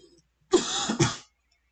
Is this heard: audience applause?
no